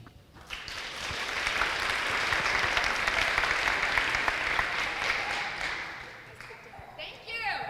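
A keynote audience gives a round of applause, a broad sustained clapping that swells and holds for several seconds, then tapers, with brief voices near the end.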